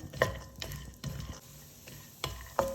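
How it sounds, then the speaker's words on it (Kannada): Cashew pieces fry in ghee in a pan while a utensil stirs them, giving soft scraping strokes and a few light clinks over a faint, quiet sizzle. "ಅದೇ ತುಪ್ಪ ಇತ್ತಲ್ಲ ಅದರಲ್ಲೇ ಈ ಗೋಡಂಬಿ ಪೀಸಸ್ನ ಹಾಕೊಂಡ್ಬಿಡೋಣ"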